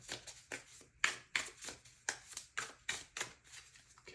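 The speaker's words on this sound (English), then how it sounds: "Shuffle the cards." Tarot cards shuffled by hand in a steady run of soft riffles and slaps, about a dozen crisp papery bursts over a few seconds, close and fairly quiet with no talking.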